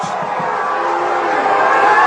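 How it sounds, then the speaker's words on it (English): A stadium soccer crowd at Finley Stadium, Chattanooga, murmurs restlessly late in stoppage time, a broad steady roar from many distant voices building slightly toward the end. "The crowd getting antsy here at Finley Stadium"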